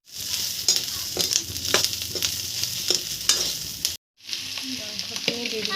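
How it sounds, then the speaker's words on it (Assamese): Meat hits browned onions in a hot pan for an Assamese non-veg dish, crackling in a loud, continuous sizzle while a spoon scrapes through it in repeated stirring strokes, with one brief break partway through. "তাৰপিছত মাংসটো দিব লাগিব।"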